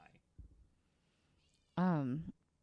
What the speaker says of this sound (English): I hope that his meows are showing up on this.